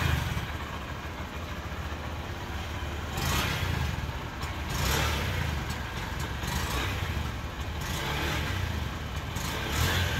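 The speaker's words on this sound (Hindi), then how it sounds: "देखंतु इंजिन साउंड" The engine of a new black 2025 Honda Shine 125cc motorcycle runs with a continuous low rumble at moderate distance, with faint rises and dips in level.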